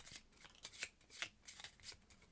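Marvel Champions game cards being shuffled by hand, a quick series of soft riffling bursts close up and fairly quiet, with no talking.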